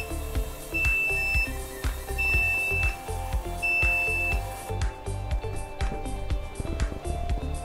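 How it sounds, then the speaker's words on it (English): Three short, high-pitched electronic beeps from a handheld Class 4 laser engraver repeat at steady intervals over a busy background of clattering and mechanical noise. "You can hear an audible beep."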